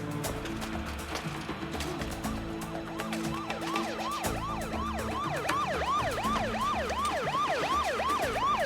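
An ambulance siren wails in a rising and falling cycle, growing louder and closer over a steady rumble of traffic.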